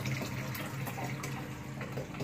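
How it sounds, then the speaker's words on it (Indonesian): Gauze cloth rinsed under a running tap while cleaning arowana fish gear, a steady hiss of flowing water with light splashing, close and fairly loud, no talk. "Jika kotor, tinggal kita kucek-kucek di air yang mengalir atau air keran"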